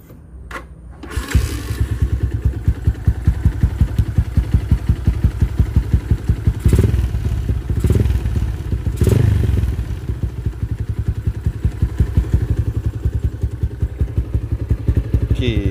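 A motorcycle engine converted to a hand clutch idles roughly and steadily, a fast even putter with a few louder thumps and revs along the way.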